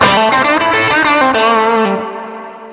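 An electric guitar played through a Quad Cortex Echoplex preamp booster model plays a strummed, boosted chord sequence with a bright, slightly driven tone, ending on a sustained chord that rings out and fades.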